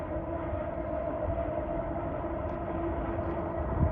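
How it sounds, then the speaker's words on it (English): A metro rail train rumbles past at a distance along a riverside waterfront in Windsor, Ontario, a steady low roar with faint rhythmic clatter throughout. "I'm guessing it's a metro rail"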